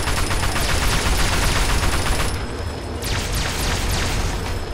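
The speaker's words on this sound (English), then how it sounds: "There's so much shooting." Dense gunfire in the Fallout 3 video game, rapid automatic bursts and sharp repeated shots crackling loudly and continuously with booming impacts.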